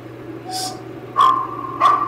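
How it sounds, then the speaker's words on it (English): Dog barks in the horror game Layers of Fear, a few distinct sharp barks spaced apart, fairly close and loud over a steady low hum. "Hello, doggy."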